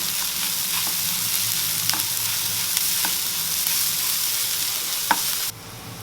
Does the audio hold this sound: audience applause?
no